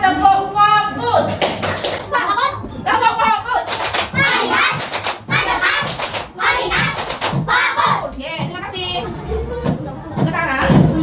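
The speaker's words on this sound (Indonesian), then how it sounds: "Sekarang kita tepuk fokus." A classroom of children claps a rhythmic focus-clapping routine (tepuk fokus), bursts of sharp hand claps in patterned groups alternating with a teacher's and children's voices chanting along.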